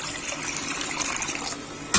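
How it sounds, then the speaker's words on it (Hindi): Water pours steadily into a kadhai sitting on a stove, a continuous close splashing gush that ends with a brief louder splash. "अब कढ़ाई हमने चूल्हे के ऊपर रखी, इसके अंदर हम डाल देंगे पानी"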